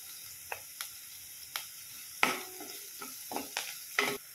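Curry leaves hit hot oil with onions in a pan, a soft steady sizzle broken by sharp crackling pops and spatters at irregular intervals, close by.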